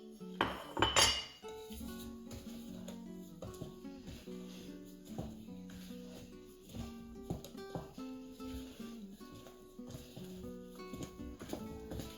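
Nut flour mixture is tipped into a bowl of Jamaican nutty fruit cake batter, with a sharp clatter of utensil against the bowl at first, then repeated soft scrapes and clinks of mixing close by.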